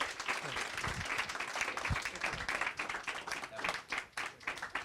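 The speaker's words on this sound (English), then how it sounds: "Let's give them a round of applause." An audience applauds after a conversation at an evening event on preserving democracy and the rule of law, with a moderately faint, sustained patter of many hands that thins toward the end.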